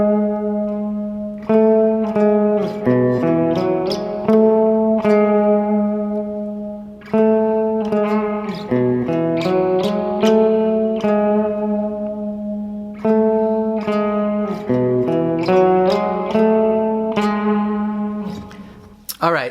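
Slow, deliberate metal guitar riff from a song, distorted tones ringing in repeated phrases with short breaks between sections, loud and sustained with no talking.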